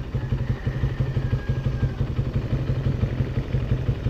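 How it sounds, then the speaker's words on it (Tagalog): A Suzuki motorcycle engine runs nearby at a steady idle, a rapid regular low putter with a slight clatter, continuous and fairly loud without talk. "Ganda ng motor, Suzuki."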